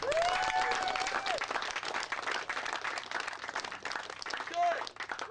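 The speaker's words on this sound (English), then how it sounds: "Please give them a big round of applause." Applause for the race staff at a Sunday rider's meeting, a dense steady clapping from the gathered crowd that fills the whole stretch, with voices rising briefly over it.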